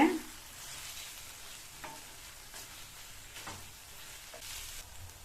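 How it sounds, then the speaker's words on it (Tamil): Bitter gourd stir-frying in masala over a high flame, a steady soft sizzle with occasional spatula scrapes and stirring knocks throughout. "பாவக்காயை சேர்த்துட்டு ஹை ஃப்ளேம்ல வச்சு நல்லா 2 நிமிஷத்துக்கு இந்த மசாலாலேயே இந்த பாவக்காய் வதங்குற மாதிரி நல்லா இந்த மாதிரி பிரட்டி கொடுங்க."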